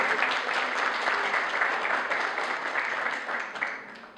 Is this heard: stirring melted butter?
no